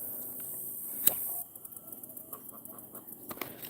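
Chickens and roosters kept in a backyard flock give a short series of quiet clucks after one sharp sound, faint and somewhat distant over a hissy background.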